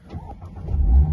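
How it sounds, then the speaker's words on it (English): A Mazda MX-5 with the 2.0 Skyactiv-G engine starts by push button: a short cranking churn catches and swells into a loud, low idle roar, close up with no talking. "press that button one time, and the car comes into life."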